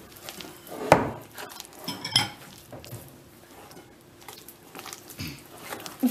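Sablé biscuit dough being stirred in a bowl, with irregular soft clinks and scrapes of a utensil against the bowl, fairly quiet and close.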